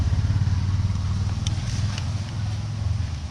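A TVS Ronin 225 motorcycle engine runs with a steady, deep, rhythmic thump close by, under a light hiss of wind noise.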